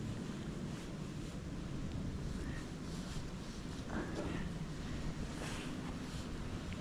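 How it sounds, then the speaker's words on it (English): Cold wind blasting across an open field in southeast Nebraska during a deer bow hunt, a loud steady roar buffeting the microphone with gusty surges and no voices. "that wind is cold and it's blowing right through me"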